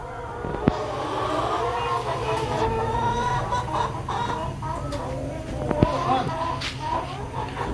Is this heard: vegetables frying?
no